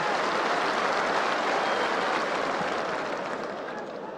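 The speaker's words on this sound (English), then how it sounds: "warm applause" A stadium crowd at White Hart Lane applauds warmly as a Spurs player returns to the pitch against Oldham Athletic, a broad, distant wash of clapping that fades slightly toward the end.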